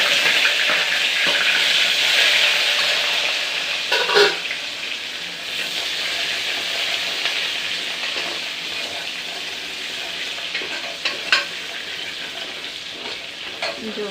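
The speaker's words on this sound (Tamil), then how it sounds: "கடுகு பொரியிட்டோம். வெங்காயம் போட்டு" Onions and mustard seeds frying in hot oil in a home kitchen while sambar is cooked, a steady close sizzle with scattered pops and crackles, plus occasional stirring clatter.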